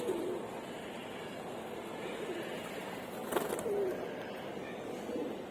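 Soft, low cooing of pigeons in a loft while they bathe in water treated with alum, faint and intermittent over a quiet background, with one brief brighter splash-like burst midway.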